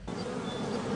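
Western honeybees buzz in a brief, steady, close drone with a bright, even hum and no voices.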